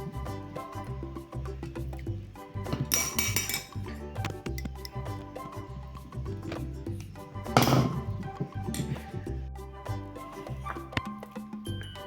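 Metallic clinks and knocks ring out repeatedly as a hot steel bowl mould is tapped on a tiled floor to release ukadiche modak, with sharp louder strikes among steady rattling.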